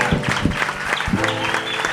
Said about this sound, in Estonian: Teeme aplausi, teeme lärmi.